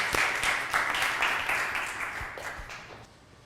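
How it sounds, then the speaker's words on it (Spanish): Applause from an audience at a Spanish-language motivational talk, a burst of clapping that gradually thins out and fades over a few seconds. "Un aplauso para Jorge, por favor."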